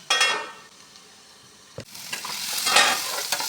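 Onion and garlic fry in a pan with a steady close sizzle, broken by a sharp clank partway through and the scrape of stirring as the sizzle swells again; no one speaks.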